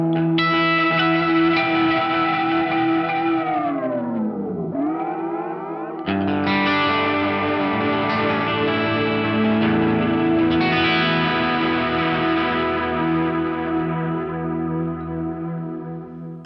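An electric guitar runs through the Breakdown effect on an Eventide H90 Harmonizer, giving a dense, distorted, echoing sustain that warps and dives in pitch before swelling back into a thick wash of sound.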